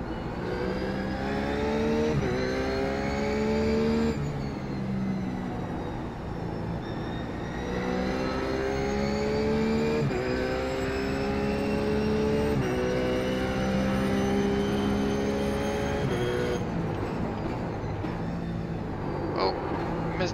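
A RUF GT3 race car in iRacing laps Okayama, its engine climbing in pitch through repeated gear pulls and shifts, with a voice talking over the steady whine.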